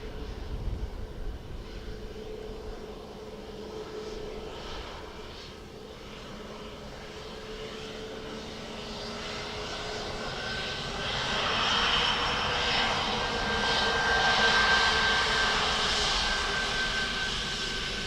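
A jet airliner landing on runway 28 left at Dublin Airport, a steady engine roar with a rising whine that swells louder as it nears and passes, heard from a distance outdoors without talking.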